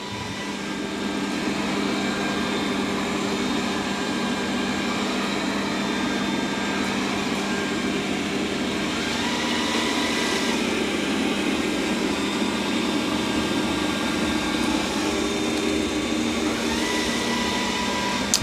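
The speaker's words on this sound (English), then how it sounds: "now it's going to go like this to try to clean that stain up" A Dreame D10 Plus robot vacuum-mop works over a floor stain, its motor giving a steady, fairly loud whir with a droning hum that holds without a break from start to finish, with no voices.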